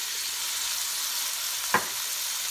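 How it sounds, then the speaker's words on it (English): Onions and garlic fry for Puerto Rican rice, a dense, steady hiss of sizzling oil filling the pan up close, broken once by a single brief soft knock. "then you can throw in the softer ones,"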